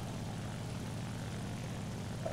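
A P-63 fighter's piston engine in the flight combat game War Thunder drones steadily, a constant low roar holding an even pitch throughout with no voices over it.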